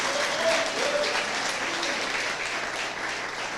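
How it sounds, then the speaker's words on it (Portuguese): Steady applause from a church congregation fills the clip, dense and even throughout at a moderate level. "Pode dar uma salva de palmas ao Senhor bem alto"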